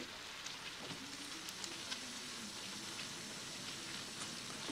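Vegetables sautéing in a pan with crushed garlic chutney, turmeric, garam masala and coriander powder: a faint, even sizzle with soft scattered crackles throughout.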